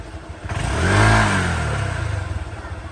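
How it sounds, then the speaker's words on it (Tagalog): A Honda Click 125i scooter with an upgraded CVT revs nearby in a single loud rise and fall, followed by a rough, pulsing idle. "Kuya, umiyaw na yung motor mo."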